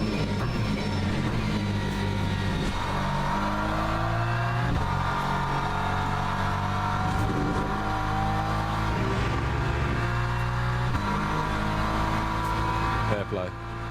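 A race car engine roars in Le Mans Ultimate during a WEC endurance championship round, loud and close, with rising and falling revs and gear shifts sweeping steadily throughout while a voice talks over it.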